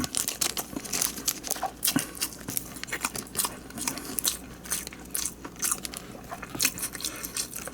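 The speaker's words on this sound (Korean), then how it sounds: "말아놓은 거 가지고 자 한번 먹어보도록 하겠습니다" Someone bites and chews a convenience-store rice ball wrapped in ham instead of seaweed, filled with fried rice and spicy marinated tteokgalbi; close, steady crunchy bites and moist chewing with no talk.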